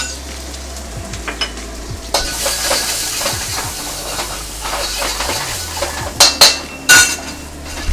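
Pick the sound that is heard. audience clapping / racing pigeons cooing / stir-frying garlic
stir-frying garlic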